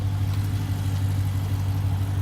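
A 2019 Dodge Challenger Scat Pack with the 6.4-litre SRT engine runs steadily close by, its deep, throbbing idle rumbling continuously without any breaks.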